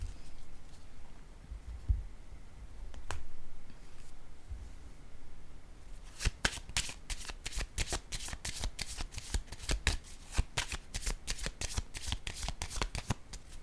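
Tarot cards are shuffled close by, starting with soft scattered handling before rapid, crisp riffling clicks that continue steadily for several seconds.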